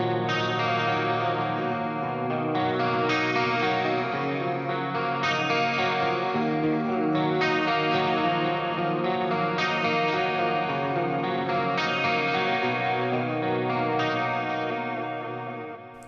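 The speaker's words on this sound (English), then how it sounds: "Let's switch to clean channel, and yeah, chorus first" A guitar on a clean amp channel with a chorus effect plays a continuous shimmering, warbling line of chords and notes, evenly loud for the whole stretch with no talking.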